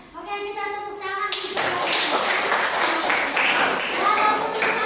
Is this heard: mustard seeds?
no